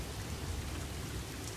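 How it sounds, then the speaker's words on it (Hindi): Heavy rain pours down in an animated flood scene, a dense, even hiss of falling water with no pauses and no other sounds. "फिर से बारिश आ गई।"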